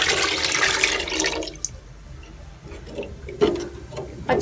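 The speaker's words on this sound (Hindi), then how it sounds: "अब हम इसमें पानी डाल देंगे। 1 kg चावल है, इसमें 1 लीटर पानी शामिल कर देंगे।" Water pours in a steady rush into a pot of fried vegetables for rice, then settles into quieter sizzling and bubbling with a few clinks near the end.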